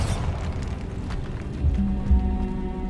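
A Bombarda spell explodes in the video game Hogwarts Legacy, a burst followed by two deep booms thudding near the end, over a low game backdrop.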